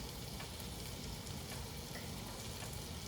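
Flour whisked into hot oil for a Cajun gumbo roux gives a steady, even sizzle that holds unbroken and fairly quiet throughout, with no voices.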